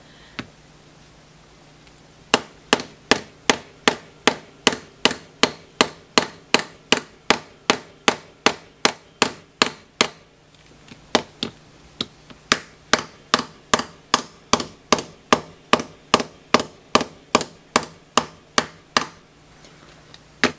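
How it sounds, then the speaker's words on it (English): Hammer blows strike a welded-shut 2005 Apple charger case, about forty sharp, evenly spaced knocks in a steady rhythm, close and loud, with a short pause midway. "Now these are welded shut, which is why I've got the hammer."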